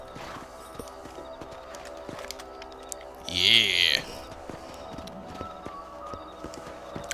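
Horse hooves clip-clop in the Red Dead Redemption video game, with a short, louder burst of hoofbeats standing out midway over a steady game background while someone talks briefly.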